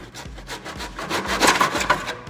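A saw works through a wooden skirting board with a rhythmic back-and-forth rasp, each stroke close and loud, steady throughout with no voices.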